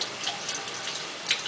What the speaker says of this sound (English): If your tomato is still hot, just run under cold water.